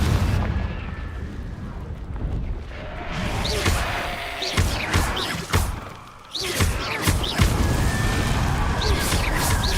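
Confringo blasting spell cast in the Hogwarts Legacy video game, a burst of loud booming explosions and crackling impacts with layered noisy blasts running throughout, sharp transients near the middle.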